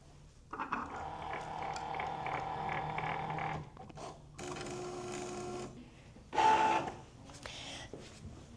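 A cutting machine working a Mylar stencil gives off mechanical whirring and buzzing in three separate passes of differing length, fairly quiet and close, with short gaps between them.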